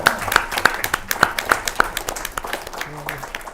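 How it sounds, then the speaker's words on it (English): A small audience at a talk on growth mindset claps in a loose, pulsing burst of distinct hand claps, close and fairly sparse, with voices mixed in. "We give a round of applause for that."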